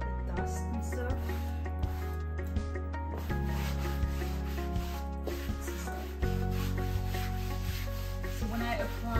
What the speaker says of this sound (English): So I'm gonna wipe it down with this like little wet cloth to wipe out all of the excess, the dust and stuff.